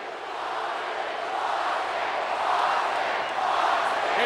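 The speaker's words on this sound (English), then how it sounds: "It's crowd cheering for the rattlesnake." A wrestling crowd roars for Stone Cold Steve Austin at No Way Out 2001, a dense, steady wall of cheering that swells slightly toward the end with no break.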